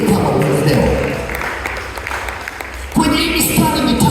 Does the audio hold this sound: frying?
no